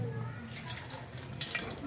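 Hands being washed under a running tap, a steady close stream of water splashing into a sink for about two seconds, with a slight burst of splashing near the end and no speech.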